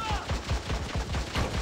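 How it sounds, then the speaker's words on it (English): Rapid bursts of gunfire from a teammate's weapon in the Army of Two: The 40th Day demo on PlayStation Portable, a steady rattling volley of repeated shots that continues through the whole short stretch. "My teammate is really shooting me?"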